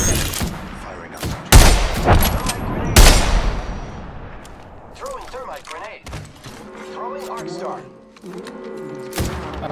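Weapon gunfire in Apex Legends: loud bursts of automatic shots crack out in the first few seconds, then give way to scattered mechanical clatter, game effects and voice callouts.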